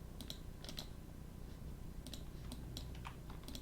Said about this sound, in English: I'm just going to hit 1 on the keyboard to bring that back out of the subdivision.